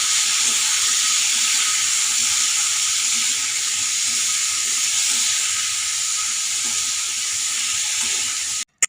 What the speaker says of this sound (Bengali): এই যে দেখো তেলটা গরম হয়ে গিয়েছে, তারপর কালো জিরে ফোড়ন দিয়ে, আর তারপরেই দেখো আলু আর কাঁচা লঙ্কাগুলো দিয়ে দিলাম।